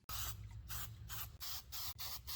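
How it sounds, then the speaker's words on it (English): An aerosol can sprays paint on a Mazda 323 GTX in several hissing bursts close by, each lasting a fraction of a second to half a second, separated by brief pauses. "Now I'm going to go ahead and spray this side."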